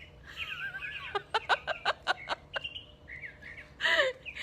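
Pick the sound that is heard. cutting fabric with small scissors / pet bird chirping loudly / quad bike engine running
pet bird chirping loudly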